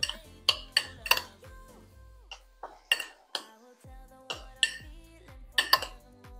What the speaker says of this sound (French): je vais remuer un petit peu le tout pour bien les assaisonner.